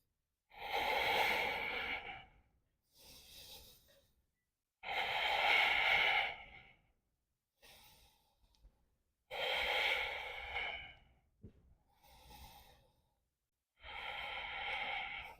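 Deep, slow breaths held through an Ashtanga-based yoga pose, five long airy inhale-exhale cycles with short gaps between, close and clear with no talking.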